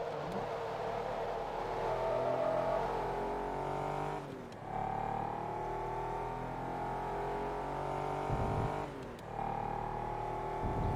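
Race car engine in Forza Motorsport 2, droning at high revs with rising pitch sweeps through the gears and two brief dips for shifts, loud and continuous.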